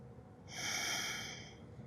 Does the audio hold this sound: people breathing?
yes